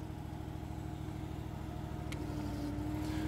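A Standard LX VMT machine moving under controller input gives a steady, close motor drone with a low tonal hum. A faint whine rises slightly toward the end. No one speaks.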